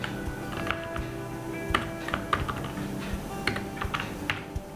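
Rapid typing on a computer keyboard, with uneven bursts of clicky keystrokes running through the whole stretch over a steady low background hum, close and moderately loud, with no one talking.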